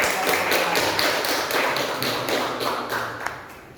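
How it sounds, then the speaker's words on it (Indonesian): An audience at a teacher-training group presentation session claps in a quick, fairly even rhythm of sharp taps, close and moderately loud, tapering slightly toward the end. "Tepuk tangan."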